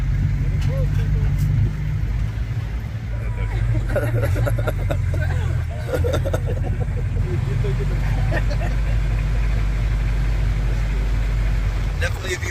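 A small pickup truck rumbles along a bumpy road toward the Nauyaca waterfalls in southern Costa Rica, its engine a steady low drone with rattles and jolts, while people talk over it throughout.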